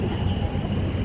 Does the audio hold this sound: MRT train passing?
yes